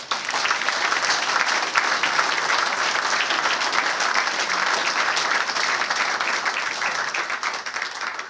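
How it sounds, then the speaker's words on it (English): Continuous applause from a crowd, dense and steady clapping at a constant level throughout. "I'm sure that deserves a round of applause."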